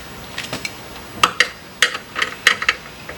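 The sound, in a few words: 10 newton meter torque wrench ratcheting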